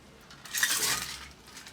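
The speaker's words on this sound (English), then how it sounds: "I'm gonna have to pour this back into this empty container" A martini is poured from a glass back into an empty container, producing a brief, soft liquid splash with a faint clink, rising and fading in about a second.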